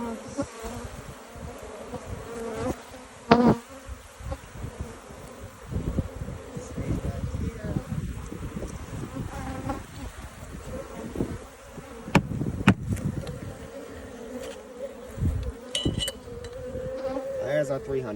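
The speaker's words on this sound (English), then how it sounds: "There's our 300 bees." Honey bees buzz continuously and close during a hive mite check, a dense droning hum with occasional knocks and handling noises from the inspection.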